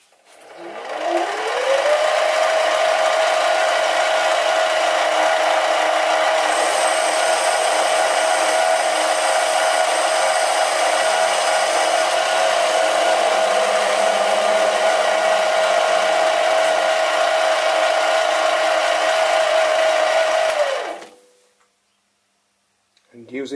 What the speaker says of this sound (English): now I'll make the cut under power feed